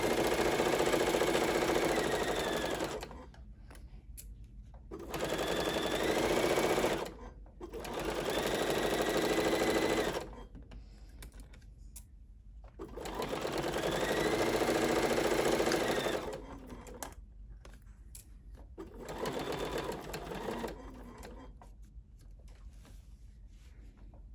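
A BERNINA sewing machine fitted with a 43 couching foot stitches minky fabric in several bursts of rapid, close, buzzing mechanical whirring, separated by short quiet pauses with faint handling noises.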